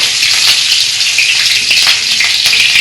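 Green chillies hit hot oil already seasoned with mustard seeds and asafoetida, giving a loud, steady sizzle with a few crackling pops, close up and continuous without any voices.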